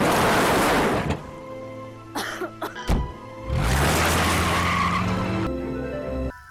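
Car arriving from behind in a film scene: loud roaring engine and skidding tires surge in, drop briefly under a few thumps, then roar again at close range.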